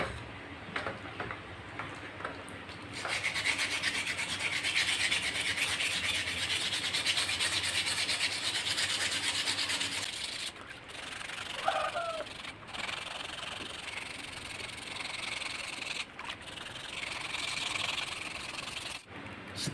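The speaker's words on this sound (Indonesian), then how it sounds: "kita lakukan pengamplasan nih" Steady coarse rasping of 180-grit sandpaper worked back and forth over a carbon bicycle fork under repair, continuous and close, with brief pauses between strokes.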